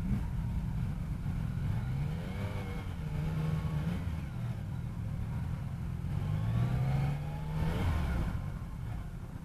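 A 2019 Yamaha Niken three-wheeled motorcycle engine revs while riding, its pitch climbing and falling in repeated sweeps over steady wind and road rumble, loud and close throughout with no talk.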